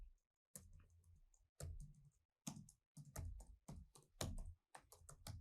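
Typing on a computer keyboard while working in Excel: close, crisp bursts of key clicks in quick clusters with short silent pauses between them.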